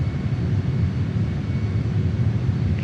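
A JAS-39 Gripen jet in Microsoft Flight Simulator comes in to land near Condobolin, Australia, with a steady, broad engine roar and rumble that stays constant and fairly loud with no talking.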